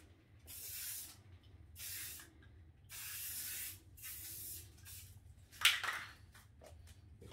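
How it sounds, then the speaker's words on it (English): Black paint hisses from a spray can in several separate bursts while detailing a metallic epoxy piece, each spray lasting about a second with short gaps between, close and fairly loud over a low background hum. "So I'm just going to spray a little bit of black for some detail in here."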